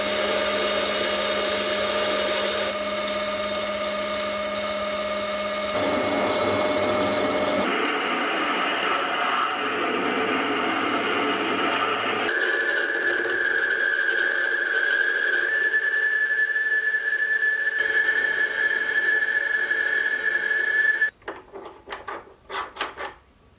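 A milling machine with a helical milling attachment cuts metal in a long steady whirring drone that shifts pitch several times, then stops near the end and leaves a few clattering knocks.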